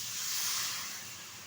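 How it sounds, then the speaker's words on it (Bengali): A little water poured onto hot sautéed spices for potato dum, letting out a brief, soft steamy hiss that swells and then fades, close and alone. "এখন দিয়ে দেবো এর মধ্যে খুব সামান্য পরিমাণে একটু জল।"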